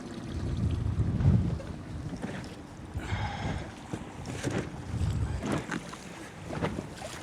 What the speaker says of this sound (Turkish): Motor çalışsın.